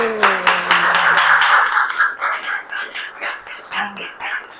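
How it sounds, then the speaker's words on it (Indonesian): Classroom clapping from a group of students in an economics lesson, a burst of scattered hand claps that is loudest early and then thins into lighter, uneven claps, with a voice briefly audible near the start. "Tepuk tangan dulu."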